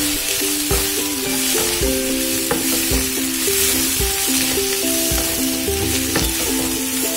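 Sliced onions sautéing with spices and pepper powder in hot oil for a Kerala-style egg curry: a steady, loud sizzle with occasional stirring knocks, under continuous background music.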